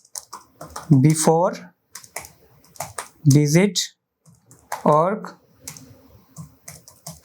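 Soft clicks of typing on a computer keyboard sit under someone speaking throughout, faint and steady between his phrases.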